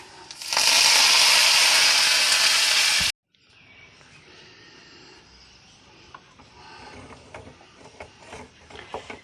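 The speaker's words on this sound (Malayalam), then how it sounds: "കടുകൊക്കെ പൊട്ടി കഴിഞ്ഞു" Loud, dense crackling and sputtering of mustard seeds, dried red chillies and curry leaves in hot oil for sambar tempering, about three seconds, then it cuts to quieter kitchen background with faint clatter.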